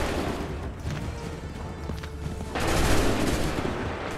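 Soldiers' musket volley in Assassin's Creed III, a dense rolling crackle of overlapping gunfire that swells louder midway through and keeps going.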